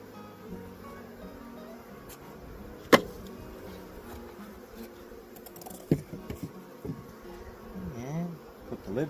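Honey bees buzz around an open hive during a spring inspection, a faint steady drone with scattered sharp knocks and clicks, close by and without speech.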